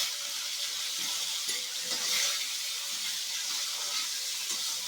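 Potatoes frying in oil in a pan, a soft, steady sizzle and hiss that carries on evenly throughout, with light bubbling and no voices.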